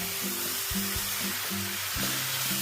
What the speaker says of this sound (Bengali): নুন আর হলুদ দিয়ে আমটাকে কিন্তু খুব ভালো করে আগে ভাজবো